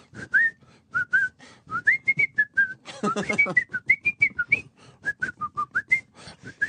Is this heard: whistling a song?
yes